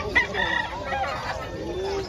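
Rooster crowing amid the busy bustle of a gamefowl market in Bocaue, Bulacan, one fairly loud call rising over steady crowd noise with other birds nearby.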